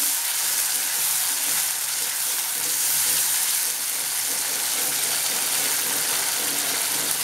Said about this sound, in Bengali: টমেটো সসটা দিচ্ছি, দিয়ে একটু নেড়ে দিচ্ছি।